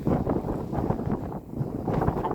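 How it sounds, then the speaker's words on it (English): Steady low rumbling wind buffeting a microphone outdoors at an allotment in December, constant and loud throughout with brief dips, no clear voices. "So I apologise for the wind, it is quite windy here."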